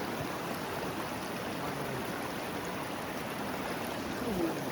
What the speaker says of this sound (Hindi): और जो बंदा जब इसकी आवाज़ सुनता है ना इस पानी की, वो अलग ही फील होता है।